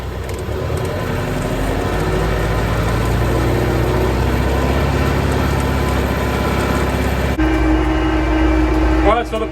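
A TYM T554 hydrostatic-transmission tractor engine runs steadily at close range with a low, rumbling idle, powering a Fimco 60-gallon PTO sprayer during calibration with water, and a voice talks over the machinery.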